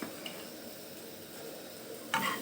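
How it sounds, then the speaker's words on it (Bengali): Poha pulao with cashews and raisins is stirred lightly in a pan, a soft scrape and faint sizzle followed by a brief louder clatter near the end. "একটু হালকা নেড়ে দিলাম।"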